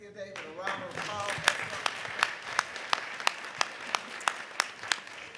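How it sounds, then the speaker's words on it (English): An audience applauds at a civil rights hearing in Memphis, Tennessee. The claps are dense and sustained with a few sharper individual claps standing out near the end, at moderate distance. "Let's give David a round of applause."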